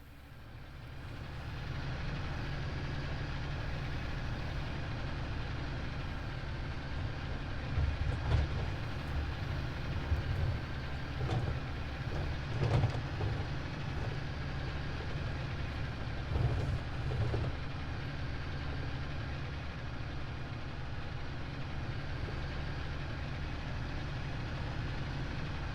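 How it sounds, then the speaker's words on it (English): A farm tractor engine in a farming simulation game drones steadily at a constant loud level, with a low rumbling hum and occasional light knocks and clunks over it, heard close with no talking. "This tractor needs a weight on the front or something"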